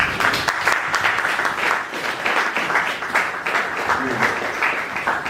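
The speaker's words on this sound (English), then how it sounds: "A round of applause for that." An audience at a filmmakers' event applauds with a continuous wash of clapping, steady and moderately loud for several seconds, with faint voices underneath.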